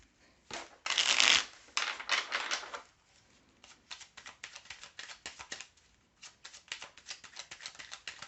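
Belline oracle cards are shuffled by hand in repeated riffling bursts, with one louder flurry early on, then quieter irregular flicks and taps continuing close by.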